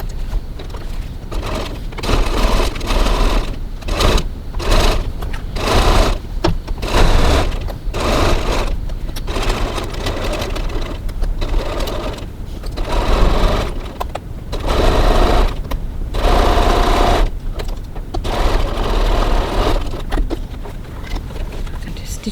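Sewing machine stitching a cross-body bag in close, rapid bursts of whirring needle motion, starting and stopping repeatedly with short pauses between runs.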